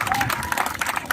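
Brief, dense clapping from an audience at a theatre day celebration in India, a crowd of hands patting unevenly with a voice faintly mixed in over the short burst.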